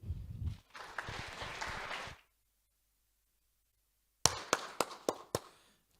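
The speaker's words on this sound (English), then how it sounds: "Can we just continue to give Prof a round of applause so she gets to a seat?" Audience applause at a university Faculty Day event as a professor walks to her seat: a dense wash of clapping that cuts off, then after a silence a few loud, separate claps close by.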